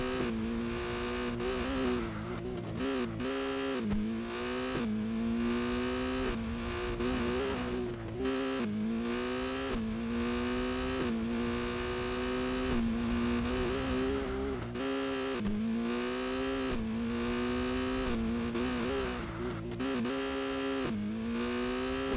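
Subaru STI on the road, its engine and exhaust rising and falling through repeated gear pulls with steady revving tones, loud and close throughout, with no talking.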